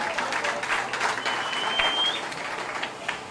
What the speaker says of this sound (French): Est-ce que vous pouvez vous acclamer encore?